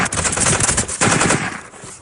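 Burst after burst of automatic gunfire from troops shooting blindly in a film fight scene, loud and dense, rattling continuously with no talk.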